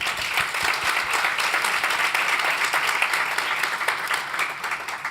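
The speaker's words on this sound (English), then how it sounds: "If you can give those AmeriCorps a round of applause." An audience at an awards event gives AmeriCorps members a sustained round of applause, with dense, even clapping from many people that keeps going at a steady level throughout.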